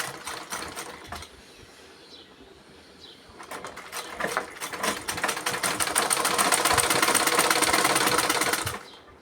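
Sewing machine stitching a new cotton nightie, running in short bursts at first, then settling into a loud, steady, rapid whirr for several seconds before stopping abruptly.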